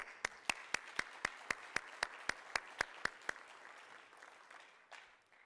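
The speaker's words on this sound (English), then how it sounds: "Let's give the panel another round of applause." Applause for a panel at a defense industry conference, a few distinct rhythmic hand claps standing out over a quieter smattering of clapping, fading into soft room noise after about three seconds.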